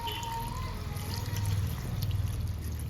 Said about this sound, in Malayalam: ഇതാടാ ഇച്ചിരി വെള്ളം ഒഴിച്ച് കൊടുക്കാൻ പോണേ.